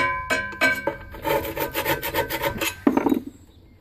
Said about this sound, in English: just keep running a scraper on it.